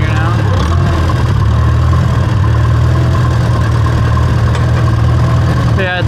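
A Farmall tractor engine idles steadily after warming up, a loud low rumble with even mid-range knocking throughout and a brief change near the end, with talk partly over it.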